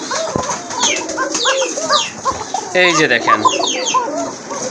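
Pigeons at a pigeon market call over someone talking, with busy, overlapping bird sounds packed close together.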